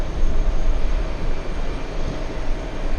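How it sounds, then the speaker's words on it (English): A Lufthansa 401 airliner bound for Frankfurt takes off from runway 13 right with a loud, steady, broadband engine roar that rumbles heavily in the lows and holds throughout. "Lufthansa's about to take off. Lufthansa 401 flying to Frankfurt."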